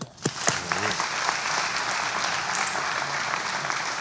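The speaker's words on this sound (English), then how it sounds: "Let's clap for him." Audience clapping in a room for a participant at a stock-market talk, a few sharp claps opening into steady applause that continues to the end.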